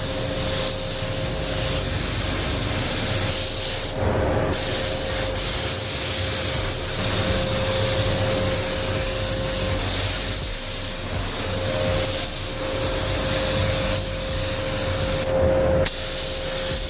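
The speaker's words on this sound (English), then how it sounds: "Right, going in now for the second coat of base coat." A spray gun lays Isle of Man green base coat on a VW Caddy with a TMG hybrid bumper, giving a loud, continuous close hiss with a steady tonal whine, broken by two short pauses in the spray.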